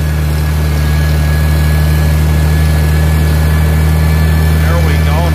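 An International gas tractor engine running loud and steady under load while climbing, with a constant low drone and a high mechanical whine riding on top.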